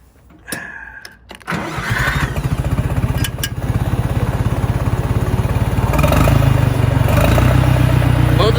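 A 1965 John Deere 1010 tractor with an unclamped Stanley muffler and suspect maintenance starts up, then settles into a loud, close, steady idle with rhythmic clattering and a grinding transmission whine that grows stronger toward the end.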